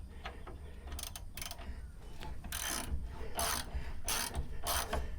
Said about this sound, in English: I just hit a spot where I couldn't keep going with the ratchet.